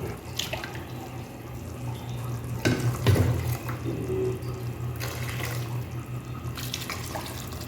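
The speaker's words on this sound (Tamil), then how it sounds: "தண்ணி கொஞ்சம் மிக்ஸ் பண்ணி ஊற்றிடலாம்" Water poured into a pot of village-style Tamil fish curry (meen kulambu), a steady trickling splash with a few louder sloshes partway through, close and moderately quiet.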